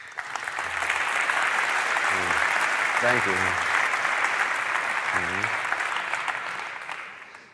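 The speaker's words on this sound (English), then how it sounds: "Give her a round of applause." An audience applauds a volunteer at a talk on dating, steady clapping filling the whole stretch while a voice speaks briefly over it.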